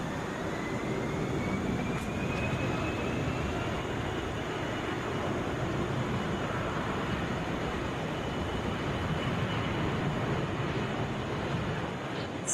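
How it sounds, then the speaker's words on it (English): A Delta Airbus A321 bound for Minneapolis at Atlanta International Airport gives off a steady, fairly distant engine rumble with a faint rising whine, continuous and without speech. "this is Delta 2775. It is headed for Minneapolis on an Airbus A321."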